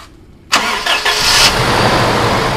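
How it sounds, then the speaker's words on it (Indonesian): A 2005 Toyota Innova engine, just rebuilt after oil and coolant had mixed, cranks and catches with a sudden loud start, then settles into a steady, close idle with no talking. "coba nyalakan mobilnya"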